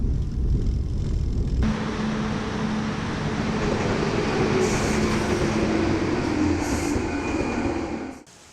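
A passenger train in Catalonia pulls into a station, heard from on board. A loud, steady rumble of wheels and carriage carries a thin squealing tone, and the sound cuts off abruptly at the end.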